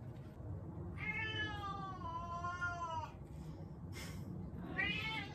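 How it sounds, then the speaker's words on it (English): A house cat asking for food meows in long, drawn-out, wailing calls, one extended meow followed by a shorter one, moderately close over a low background hum. "That's my mom's cat asking for his second supper."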